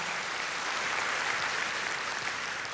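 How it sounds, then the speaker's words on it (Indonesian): A church congregation applauds during a sermon by Ps Nita Setiawan, a steady, moderately loud wash of many hands clapping together, unbroken for the whole stretch with no speech over it. "Oh, kalau mau tepuk tangan ya meriah dong saudaraku."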